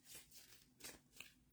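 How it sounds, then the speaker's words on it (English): Tarot cards shuffled by hand, a few soft riffling bursts in quick succession, close and quiet, ending with a sharper snap. "I like to activate our cards and shuffle them"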